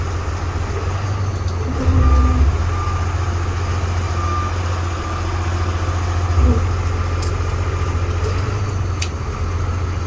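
A Freightliner FL50 rescue pumper truck with a Cummins diesel drives along, its steady low engine drone continuous throughout and swelling briefly twice, with faint high beeps and no speech.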